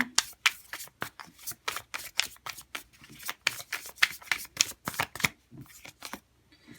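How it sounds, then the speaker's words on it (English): Tarot cards being shuffled by hand for a full moon reading, a close rapid run of crisp riffling bursts in an irregular rhythm that stops abruptly near the end, with no talking. "Let's see if we can get a few tarot cards here."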